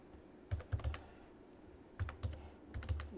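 Code being typed on a computer keyboard: bursts of quick, close key clicks in two clusters separated by a short pause, no talking.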